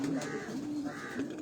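Pigeons coo on a rooftop loft, soft repeated rounded calls in a slow rhythm, fairly faint and mid-distance, over a low steady background hum.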